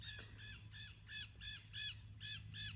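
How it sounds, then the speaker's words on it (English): Small green birds called tukis, abundant in the area, give a run of about eight evenly spaced, harsh nasal calls that are fairly close and clear over a low background hum. "They're the green birds, which is very abundant."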